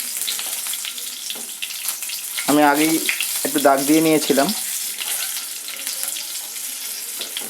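Tomatoes fry in hot oil with a steady sizzle and occasional stirring, and someone speaks briefly over the cooking noise midway through.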